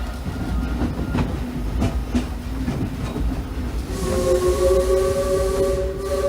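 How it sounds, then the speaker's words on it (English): Disneyland Railroad train rolling along the rails, with rhythmic clacks over track joints and a steady rumble from the carriages, joined late by sustained tonal squeals or whistle-like tones. "please remain seated until the train comes to a complete stop"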